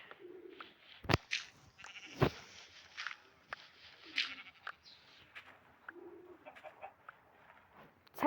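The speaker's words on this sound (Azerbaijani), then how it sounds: "Qoyun çəkil görüm." Short sheep bleats repeat at intervals over a quiet background, with a few sharp clicks and taps in between.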